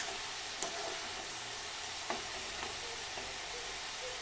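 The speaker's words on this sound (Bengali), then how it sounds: "এদিকে বাঁধাকপিটা আমার ভাজা হচ্ছে" Cabbage fries in a pan with a steady broadband sizzle, joined by a few light stirring scrapes and taps; close and continuous, with no voices.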